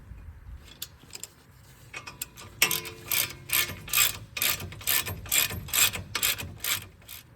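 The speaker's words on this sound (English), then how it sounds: "Tighten these caliper bracket bolts back down" A hand ratchet clicks in quick repeated bursts as 18mm caliper bracket bolts are tightened on a 2013-20 Ford Fusion during a brake pad and rotor job, close and loud with a steady rhythmic pulse.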